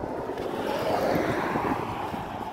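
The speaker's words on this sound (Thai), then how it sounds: "ลมแรงอ่ะ" Strong wind buffets the microphone at the Thai-Lao Friendship Bridge in Nong Khai, a steady loud rushing roar that holds for the whole stretch with no talk over it.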